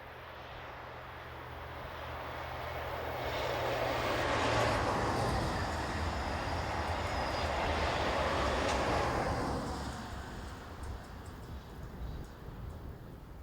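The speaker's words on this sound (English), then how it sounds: "Here it heads this short train south." A freight sector locomotive hauling a short train south swells from a distance into a loud, broad rumble and roar mid-passage, then fades away again, with no voices.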